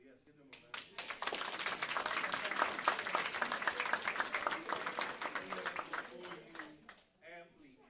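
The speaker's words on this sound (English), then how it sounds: "So yes, give them a round of applause." At a school inauguration ceremony, an audience gives a round of applause that rises quickly after a voice, holds as lively clapping, then thins and fades before someone speaks again.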